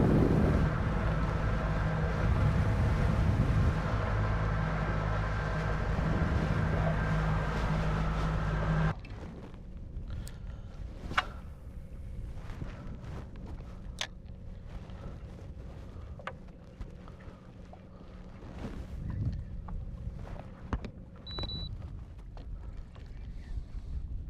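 A small boat motor putters along on open water on a chilly outing, loud and steady for the first nine seconds before dropping to a faint low hum with wind and scattered knocks.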